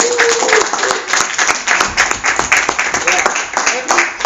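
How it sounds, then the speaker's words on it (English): An audience applauds host Gautam at a training session, a dense round of clapping lasting several seconds while voices chatter over it. "give a round of applause to Gautam"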